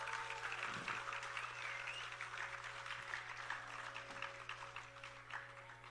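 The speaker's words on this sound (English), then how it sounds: "One more round of applause," Faint, distant applause for a dancer at an arangetram, a soft steady patter of clapping from the audience under a low hum, with no speech.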